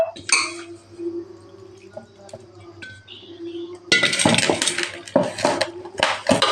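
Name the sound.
stirring chicken pieces in a cooking pot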